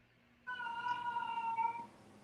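A pet cat meows in one drawn-out, rising and falling call close to the microphone, with a quiet room behind it and no talking.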